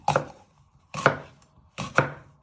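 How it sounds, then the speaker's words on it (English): A knife cuts through a de-seeded pepper on a chopping board, landing three crisp, evenly spaced strokes close up, each a sharp thud that fades quickly, with no talking. "And you just want to finely slice it."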